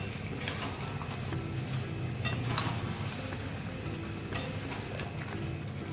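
Chicken curry masala sizzles and fries in a pan while green chillies and water are stirred in, a steady low hiss broken by a few spoon scrapes, close and continuous with no talking.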